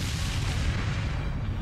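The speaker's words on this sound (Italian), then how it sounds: "Un'altra esplosione scaraventa Jack fuori dall'aereo." A deep, rumbling blast fills the clip, heavy low-end boom with a broad noisy tail, no voices.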